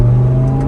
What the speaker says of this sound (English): Just sounds absolutely incredible while you're going through the gears here.